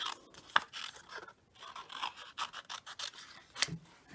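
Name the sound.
scissors cutting excess paper from a card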